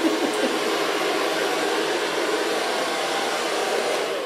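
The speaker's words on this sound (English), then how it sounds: "So for blow drying." Hair dryer blowing steadily and loud up close as hair is blow-dried in a salon, a continuous airy roar with no break for the whole stretch.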